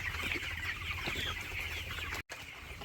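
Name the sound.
sick chickens making a gurgling sound on a poultry farm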